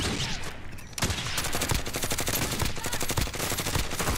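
Rapid automatic gunfire rattles in Warzone, a brief lull then sustained bursts of fast repeated shots, loud and close, with no talk over it.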